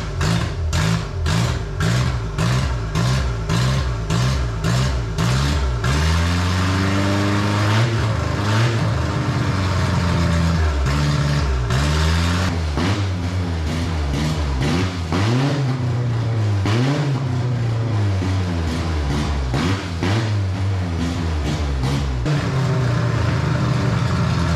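A 2.3-litre EFI engine swapped into a Ford Pinto wagon runs steadily and is revved repeatedly, with rising and falling engine pitch through close, loud rhythmic throttle blips and no talking.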